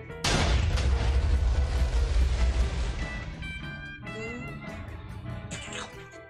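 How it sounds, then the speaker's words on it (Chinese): In Minecraft, a blast blows everything apart with a sudden loud boom that rolls into a long, rumbling decay lasting a few seconds before fading into quieter game sounds. "整个炸掉"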